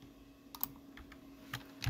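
A few sharp, quiet key clicks, with the Alt key pressed while dragging in Illustrator, land singly and sparsely over a faint, steady room hum.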